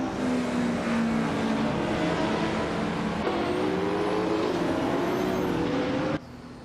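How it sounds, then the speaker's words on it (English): Racing video game engine noise from a 1995 Vauxhall Cavalier on track, a continuous loud drone with shifting pitch as cars pass, ending with a sudden drop in level. "Bot Rusnapalm 6 is driving the 1995 Vauxhall Cavalier."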